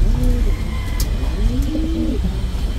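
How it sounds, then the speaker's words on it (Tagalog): Ice pigeons on a farm with nesting birds give soft, low rolling coos, several calls rising and falling close by over a steady background hum. "Ice pigeon yan. Ice pigeon."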